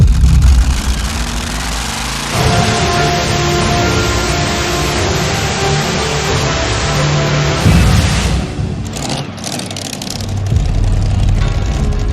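A pulling tractor's engine roars at full throttle on a competition pull track, a loud, continuous, heavy low rumble that shifts in tone partway through and surges again near the end.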